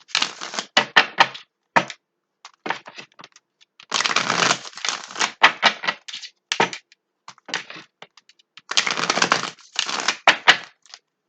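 Bursts of crisp riffling and shuffling tarot cards, in quick repeated runs separated by short pauses, close and clear with no talking.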